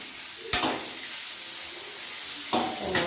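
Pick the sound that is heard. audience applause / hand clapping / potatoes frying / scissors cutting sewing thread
potatoes frying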